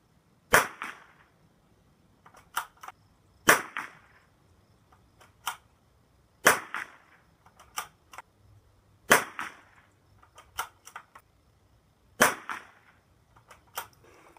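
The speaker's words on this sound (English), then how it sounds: "We're going to shoot SK pistol match first with the CZ455 at 50 yards on the top target." A CZ455 rimfire rifle fires SK Pistol Match ammunition at 50 yards on an outdoor range, sharp single cracks spaced a few seconds apart, with quieter clicks of bolt cycling between shots.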